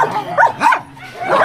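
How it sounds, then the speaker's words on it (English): A dog at a shelter on Skiathos gives a few short, close yips and whimpering barks in quick succession, with brief pauses between them. "What a rack of doggies, come and see me."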